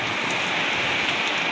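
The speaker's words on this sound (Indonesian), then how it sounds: "Hujan deras." Heavy rain pouring steadily at Gondosuli, a dense, even hiss of drops on surfaces close by with no break and no voices.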